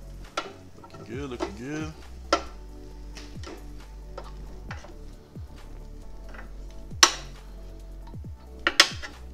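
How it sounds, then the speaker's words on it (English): Sausages and peppers are moved and flipped with utensils on a hot Ninja Foodi Grill, giving scattered scrapes, clinks and taps over a soft sizzle while a person talks briefly. "Let's move these veggies around. And then we're gonna flip these around."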